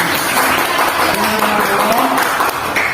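Steady applause fills the whole stretch, a dense wash of many hands clapping with faint voices mixed in.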